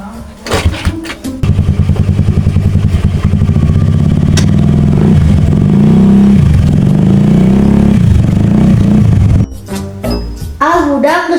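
A motorcycle engine revs loudly and steadily for several seconds, then drops off, with a voice briefly heard near the end.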